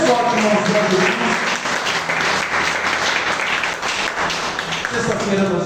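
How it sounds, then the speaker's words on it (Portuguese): A church congregation claps loudly and enthusiastically in praise, a thick, continuous applause with a preacher's voice speaking over it in a reverberant hall. "dê um salve de palmas bem forte, bem aberto, mais forte, irmãos, para Jesus"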